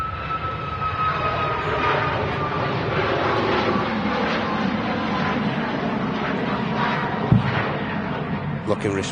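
A SunExpress airliner lands at Manchester Airport, its steady broadband jet roar holding close and loud throughout, with a brief thump near the end and a voice talking over it.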